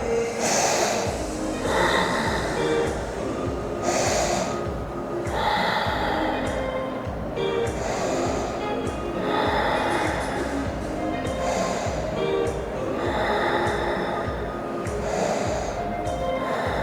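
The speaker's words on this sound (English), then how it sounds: "Breathe into the nose, out through the nose 6 times." Forceful breaths drawn in and pushed out through the nose repeat in a steady rhythm, about six cycles of loud close sniffing inhales and exhales during a facial exercise routine.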